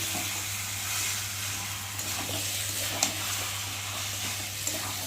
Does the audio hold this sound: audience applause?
no